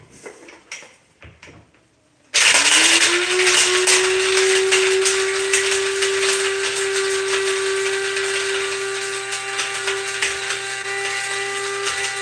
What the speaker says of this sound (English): So I'm just gonna grind this.